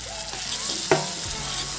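Ground masala of cumin, coriander and garlic hits a pan of fish curry with softened tomato, giving a steady close sizzle with a sharp burst as it lands, then settling into continuous frying.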